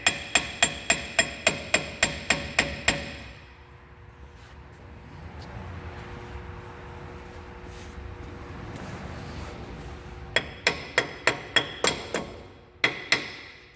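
Sharp metallic hammer blows strike an axle knuckle boot onto the front axle knuckle of an M35A2 truck, coming in rapid bursts of about ten strikes at the start and end, with a quieter stretch of shop noise between.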